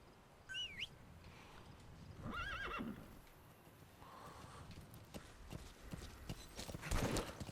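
Horse hooves clip-clopping and a horse whinnying in Metal Gear Solid V, with neighs near the start and a louder burst near the end over game background noise.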